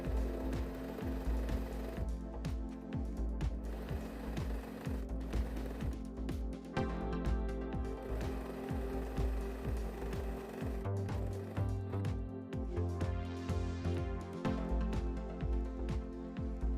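A sewing machine stitches a zigzag seam on a lace top, running in a steady mechanical rhythm of fast repeating clatter, close and continuous throughout, with a short change in motor tone partway through.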